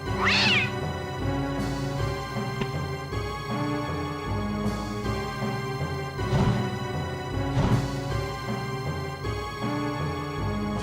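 A kitten meows several times, with sharp, high cries near the start and two more in the middle, over a sustained musical background with no speech.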